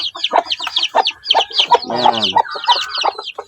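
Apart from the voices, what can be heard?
hen clucking with chicks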